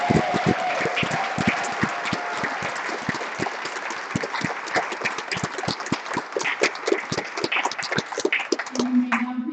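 Audience clapping at a Spring 2021 graduate school commencement ceremony: scattered, distinct individual claps that grow denser and more rhythmic, fairly sparse rather than a full roaring crowd, with a brief tone near the end.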